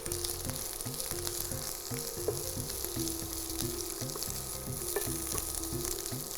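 Sliced onions sizzle steadily in a pan for a sweet bread sandwich filling, a dense close frying hiss with repeated soft scraping stirs in a regular rhythm and no voices.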